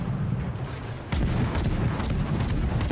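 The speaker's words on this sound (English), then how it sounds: "and just open fire with my guns" Guns of a Benson-class destroyer fire in the naval combat game World of Warships, a sudden loud booming onset followed by several repeated cannon blasts over continuous battle rumble.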